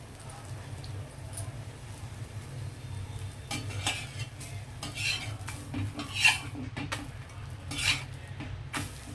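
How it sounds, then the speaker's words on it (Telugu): An egg omelette frying in a pan for a bread sandwich, soft sizzling under scrapes and clinks of a utensil as it is turned over, moderately close, with no talking. "కాలిందండి మన ఆమ్లెట్, తిరగేద్దాం ఇంకోవైపు."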